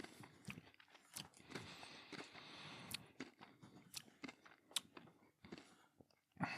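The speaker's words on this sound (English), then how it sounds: "while I'm eating my pixie stick" Someone eats a Pixie Stick candy close up, with faint, irregular crunching and chewing sounds and small clicks and pauses throughout.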